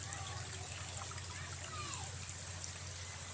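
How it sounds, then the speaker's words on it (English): Floodwater rushes and trickles into a flooded pig pen as a steady, close, continuous flowing wash with small splashes, no voices over it. "Look at all that water just rushing in there."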